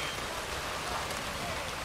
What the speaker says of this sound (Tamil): மழை தண்ணி கீழே விழுது பாருங்க